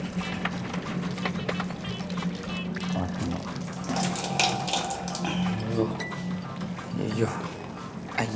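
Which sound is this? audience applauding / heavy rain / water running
water running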